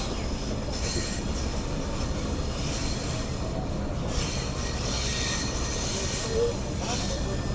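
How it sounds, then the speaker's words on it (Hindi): The Subak Raftar railcar on the Lahore to Rawalpindi line rolls steadily along a mountain-edge track, a continuous loud rumble of wheels and carriage noise heard from inside the packed train. "और इसके बिल्कुल एड्ज पे चल रही है हमारी ट्रेन।"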